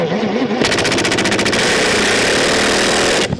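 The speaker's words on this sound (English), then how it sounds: "I know I bit into it whenever I heard that loud torque on the impact" Impact driver sinking a screw into wood while assembling 850 ArmorWorks ShoreTrooper shin armor, a loud continuous mechanical roar with rapid hammering pulses through most of the clip, close and dominant.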